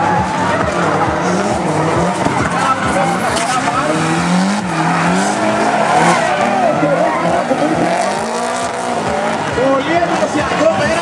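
Drifting race cars pass at a drift event, loud engines revving and tires squealing in long wavering howls, close and continuous, with a commentator's voice talking over them.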